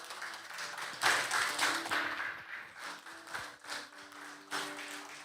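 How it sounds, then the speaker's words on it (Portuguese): A church congregation claps at an evening worship service, a broad ragged patter of many hands in a hall that swells and fades in waves, with a faint voice or two behind it. "Você pode aplaudir ao Senhor?"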